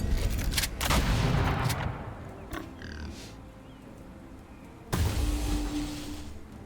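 Gunfire from the strategy game Age of Wonders 4: a cluster of sharp, loud cracks and bursts in the opening two seconds, then a quieter spell before another dense volley near the end.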